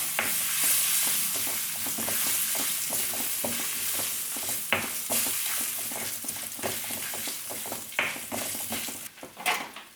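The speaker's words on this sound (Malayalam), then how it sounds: "എല്ലാം കൂടി അതുപോലെ ഒന്ന് മിക്സ് ചെയ്ത് കൊടുക്കാം." Amla rasam is stirred in a pan after turmeric and pepper are added, giving a quick rhythmic series of spoon scrapes and taps against the metal over a soft sizzle.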